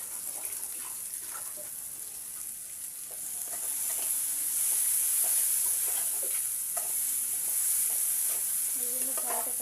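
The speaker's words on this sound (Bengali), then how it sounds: "সমস্ত দিয়ে মশলাটাকে ভাজা হবে" Ground coriander, cumin and Kashmiri chilli powder paste fries in oil in a pan for a puffed-rice dish, a steady close sizzle with stirring scrapes that grows louder midway, with a fan running in the background.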